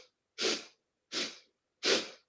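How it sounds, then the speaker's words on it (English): Three sharp, equally spaced nasal sniffs, close and clear with silence between them, part of a Kundalini yoga breathing exercise. "break the breath into 4 equal sniffs as you inhale and 4 equal sniffs as you exhale through the nose."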